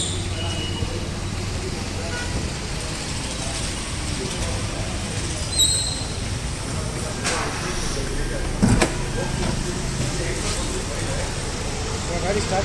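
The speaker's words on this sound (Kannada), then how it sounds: "ಗಾಡಿ ಸ್ಟಾರ್ಟ್ ಮಾಡಿದ್ದೀನಿ ನಾನು." A 2011 Hyundai i20 Sportz petrol car idles after starting, a low steady engine hum running throughout beneath someone talking, with faint clicks and outdoor street noise around it.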